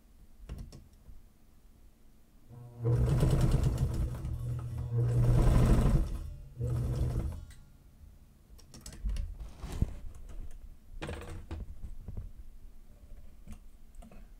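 A sewing machine runs a seam on a laptop bag in several close bursts of rapid mechanical stitching, followed by scattered clicks and handling noises in a quiet workshop.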